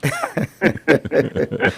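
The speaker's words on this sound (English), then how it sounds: "I'm clearing my throat" A man clears his throat in a string of short, rough, chuckle-like bursts, close and fairly loud, on a morning radio show.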